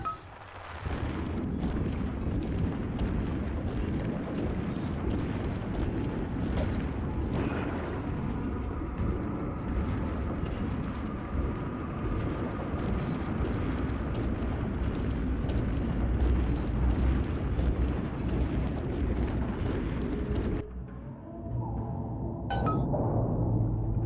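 Heavy bomb blasts in the BioShock 2 underwater city roll on for about twenty seconds, deep and rumbling like continuous artillery, then cut to a brief quieter stretch with a sharp crack near the end.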